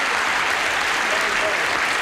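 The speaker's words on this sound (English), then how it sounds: "let's have a brisk round of applause for our current champ" Studio audience of a 1973 game show applauding the returning champion, a steady, dense wash of clapping filling the whole moment at close range without a break.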